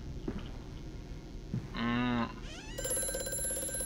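A telephone in Amnesia: A Machine For Pigs rings once with a short metallic bell trill after a faint thud, followed by a rising sweep and a sustained electronic tone in a hushed interior.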